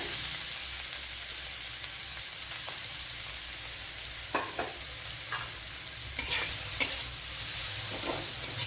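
A handful of carrots sizzles in ghee in a pan for a Kerala-style Onam semiya payasam, with a steady hiss and sharp spoon-stirring scrapes and clinks that grow busier toward the end.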